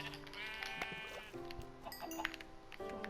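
Sheep bleat in long, wavering cries over a busy Minecraft soundscape on PlayStation 4, with another bleat answering later; steady background noise throughout.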